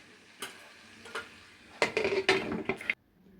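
Spoon scrapes and clinks against a pan while aloo palak curry is served out, a few sparse taps followed by a denser run of close metallic knocks and scrapes that stops abruptly.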